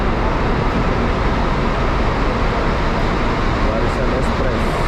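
Mutiara coach idling at a busy Malaysian bus terminal, a steady loud engine rumble and crowd noise filling the whole stretch with voices mixed in.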